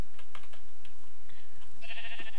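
Sheep bleat in the video game Minecraft, two or three short nasal calls over a background of rapid keyboard clicking, with a brighter tonal sound near the end.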